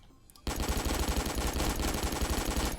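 L85A2 assault rifle in Roblox Phantom Forces firing a long sustained automatic burst of rapid, even, punchy shots that starts abruptly and stays loud and close throughout.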